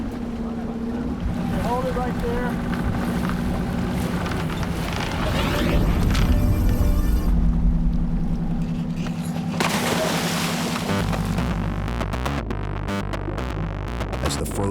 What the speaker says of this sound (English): the captain revs the boat's engines. The noise is a cue for the sharks that a feeding is about to begin